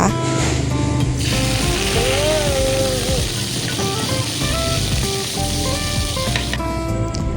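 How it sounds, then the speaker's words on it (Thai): Fish scales frying in hot oil in a Thai kitchen, a steady loud sizzle and crackle throughout, with tonal music playing over it. "ทอดเกล็ดปลานะคะ"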